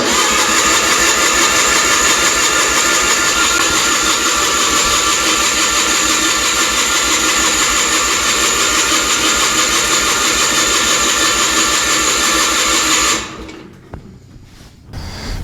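A Miller Trailblazer 250 welder generator engine churns loudly and steadily for about thirteen seconds without catching, then cuts off abruptly into near silence.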